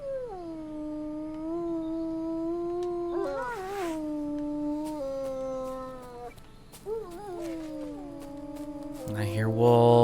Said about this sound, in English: I hear wolves.